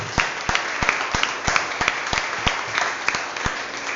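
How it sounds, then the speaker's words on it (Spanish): A church congregation claps for God in a steady, rhythmic beat of about three sharp claps per second, loud and close over a soft background rumble. "Denle un fuerte aplauso a Dios por eso."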